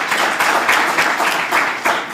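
An audience at a regional state-of-the-region address in Otjozondjupa claps in a steady round of applause, dense and fairly loud, with pulsing bursts of clapping and no voices over it.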